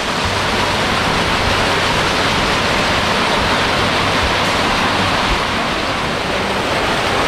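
The El Barillo river near Arcatao, Chalatenango, in El Salvador, rushing in a constant, loud, full roar of flowing water, with no voices over it.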